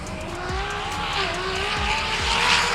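Nissan GT-R R35 at a roll racing event accelerating hard with a loud, continuous engine roar and rising gear pitch, tyres squealing and another car audible alongside.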